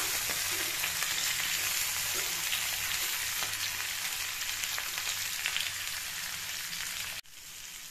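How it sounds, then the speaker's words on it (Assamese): Jackfruit pieces fry in a pan with a loud, steady close sizzle, with occasional scrapes as they are stirred, until the sizzling drops abruptly near the end. "এতিয়া অলপ সময় এনেকৈ লৰাই পেলাই এইখিনি ভাজি ল'ম"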